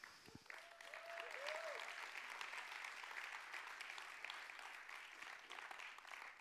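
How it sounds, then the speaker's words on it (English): A TEDx audience applauding steadily for a speaker, a dense continuous clatter of many hands in a hall that holds for several seconds, with a brief tonal whistle near the start. "Another round of applause for Marika."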